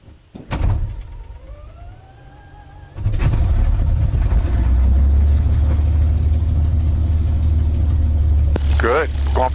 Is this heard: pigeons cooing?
no